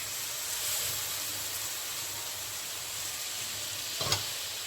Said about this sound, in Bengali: এখন এখানে আমি চালটা ভাজতে এখন কী করবো, আমি এই যে ডালটাও আছে